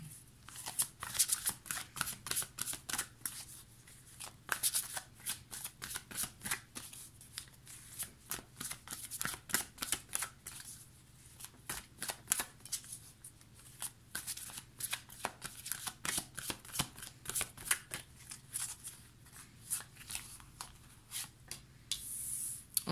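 Angel tarot cards are shuffled by hand close up, a long run of quick papery riffles and slaps in uneven bursts with brief pauses between them, quiet and with no voices.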